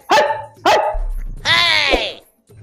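A dog barks twice in quick succession, loud and close, followed by a longer whining yelp, with a voice briefly at the end.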